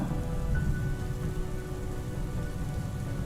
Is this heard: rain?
yes